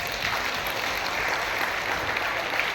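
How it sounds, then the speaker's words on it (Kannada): An audience at a daytime community event claps together in loud, sustained applause, a dense even patter of many hands with no talking over it. "ಮತ್ತೊಮ್ಮೆ ಜೋರದ ಚಪ್ಪಾಳೆ"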